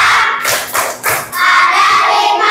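Children's rhythmic hand-clapping chant in an Indonesian classroom lesson, a few sharp claps in a quick pattern followed by a burst of group noise.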